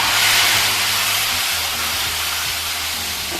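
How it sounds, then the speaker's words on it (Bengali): Marinated cauliflower goes into hot oil and fries with a loud, dense hissing sizzle that surges at first and then settles into a steady fry close by. "এবার আমি ওই যে ফুলকপিটা ম্যারিনেট করে রেখেছিলাম, ওটাকে এবার আমি তেলে দিয়ে দিচ্ছি"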